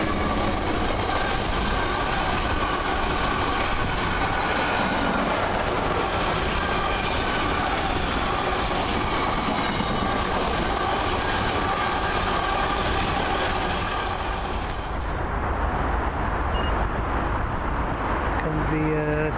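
A Class 66 diesel hauling a Hunterston–Fiddler's Ferry freight rumbles past at close range, a loud continuous roar with wagons clattering over the rails, fading slightly near the end.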